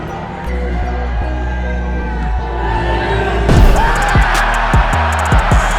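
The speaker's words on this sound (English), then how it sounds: "watch the reaction of the crowd" Arena crowd at a dunk contest roars and cheers, a dense sustained wall of voices that swells louder partway through, with sharp basketball bounces and bangs punctuating the noise.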